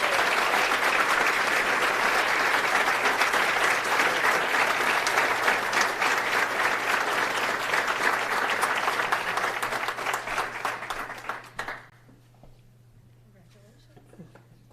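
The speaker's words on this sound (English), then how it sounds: "please join me in a round of applause" An audience at a business awards ceremony gives a round of applause, dense and loud clapping with some cheering voices that thins and stops near the end, leaving a quiet room with a low steady hum.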